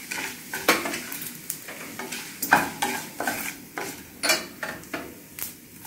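Asafoetida, cumin and fenugreek seeds fry over low heat in a pan for tomato kadhi, with a soft sizzle under regular scraping stir strokes about twice a second and a few metallic clinks.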